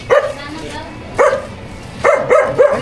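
Several dogs bark in short sharp bursts, a few loud close woofs spaced over a couple of seconds, with a steady low background hum.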